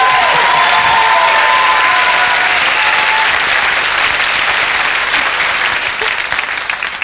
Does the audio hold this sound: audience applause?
yes